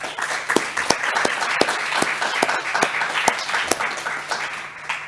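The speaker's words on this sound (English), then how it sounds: "all of those have deserved a round of applause" Audience applause at a policy conference on mobility, a sparse room of people clapping with distinct individual sharp claps over a steady patter, close and moderately loud.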